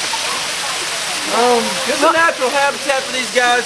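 Water from a zoo waterfall trickles steadily over three rock formations, a constant hiss of spatter beneath people talking close by.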